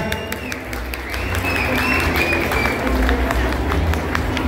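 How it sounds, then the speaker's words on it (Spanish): Concert crowd at a Sonora-style cumbia show applauds and cheers, a dense wash of clapping mixed with crowd noise and a few whistles, loud and continuous for a few seconds. "¿Dónde están los aplausos, familia?"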